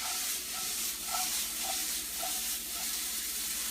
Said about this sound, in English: once everything nice and coated and you hear that sizzle